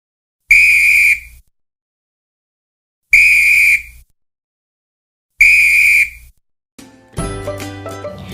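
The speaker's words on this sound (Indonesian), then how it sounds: "Apakah kalian mendengar suara peluit?" A whistle is blown three times in loud, shrill, evenly spaced blasts of about a second each, followed by a short burst of music.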